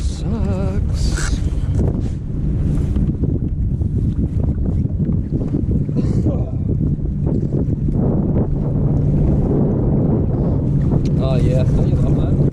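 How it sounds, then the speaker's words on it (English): Strong wind buffets a fishing boat on Lake Somerset, a steady, loud rumble and roar of gusts across the microphone lasting throughout, with someone talking intermittently over it. "That wind is not blowing an easterly this morning, which sucks."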